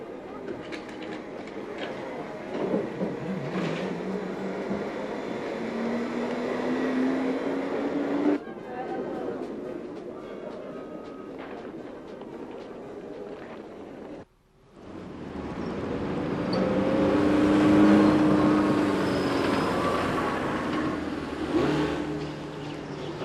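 Sunbeam trolleybuses rumble over Tuckton Bridge in Bournemouth, a steady loud motor drone with rising whine tones, a brief drop to near silence midway, then another vehicle passing close and swelling louder.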